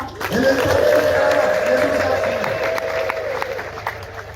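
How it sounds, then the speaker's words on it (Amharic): An Amharic church congregation breaks into a long, high trilling ululation with clapping and crowd noise, loud and sustained for several seconds, then slowly fading. "እልልታ፣ ጭብጨባ"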